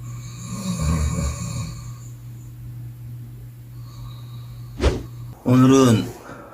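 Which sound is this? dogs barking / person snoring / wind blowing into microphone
person snoring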